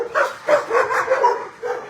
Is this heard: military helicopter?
no